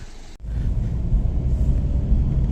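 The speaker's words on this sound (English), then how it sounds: "the noise the car makes when it's a cold start, it is a bit tinny" Engine of a 2014 Mini Countryman ALL4 automatic with a 1.5 engine starting from cold, a brief click then a low rumbling idle that settles in steadily, close by and with no talking.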